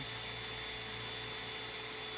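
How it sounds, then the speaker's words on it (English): A power drill pre-drilling holes with a 1/8 bit while setting a shower base whines steadily and continuously at close range, a high, even mechanical drone with no pauses. "Start pre-drilling."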